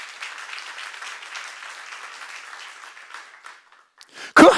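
A church congregation claps in soft, fairly distant applause during a sermon seminar. It thins out and fades after about three seconds, and a sudden loud burst cuts in at the very end.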